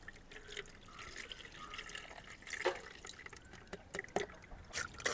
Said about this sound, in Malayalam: ദേ അരിക്കുന്നതിനായിട്ട് അരിപ്പ എടുത്തു